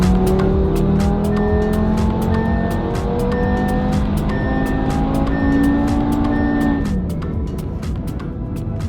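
A stage 2 tuned Audi RS3, flashed back to stock software, revs hard and steady for about seven seconds with rising and falling engine pitch, loud and close, then eases off near the end with no talking.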